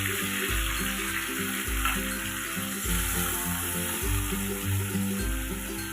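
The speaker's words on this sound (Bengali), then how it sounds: "এখন আমি আগে থেকে পেস্ট করে রাখা মশলাগুলো দিয়ে দিব।" Spice paste frying with ridge gourd and potato pieces in a pan for a catla fish curry, a loud continuous sizzle close up, broken by regular stirring thuds.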